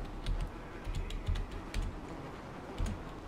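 Computer keyboard keys pressed in irregular bursts, several sharp clicks close by with short gaps between, alone with no talking.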